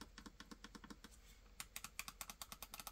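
Sharp, clicky presses of the shoulder buttons on a PowKiddy X55 handheld console, close up, in quick irregular bursts that grow louder and faster toward the end, with no talking.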